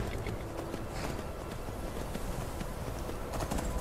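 A horse's hooves gallop in steady, fast clip-clop rhythm while riding in Skyrim in VR, a continuous dense pounding over a broad rushing background with no talk.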